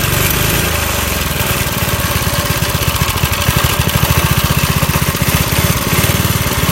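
Vintage mini bike with a Briggs & Stratton 2hp engine running after a cold start at 35 degrees, a loud, steady, rapid putter close by with slight surges in pace throughout and no voices.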